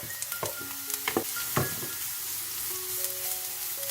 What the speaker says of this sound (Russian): Все вместе обжариваем еще 3 минуты.